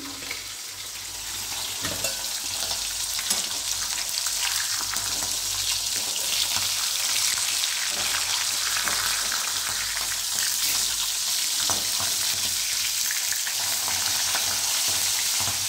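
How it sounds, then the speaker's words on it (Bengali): Fish heads fry steadily in hot oil in a pan, a dense continuous sizzle with crackling pops that holds loud and even throughout. "মাছগুলো উঠে দিলাম, আর একটু কড়া করে ভাজা হোক"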